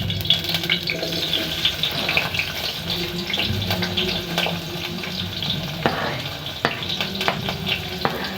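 Onions fry in cooking oil for a stew, a continuous near sizzle with stirring scrapes and occasional clacks of a utensil against the pan.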